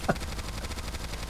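Rapid, even gunfire from a character's shooting animation in the NIKKE game, a steady stream of quick, fairly quiet shots held at a constant level throughout.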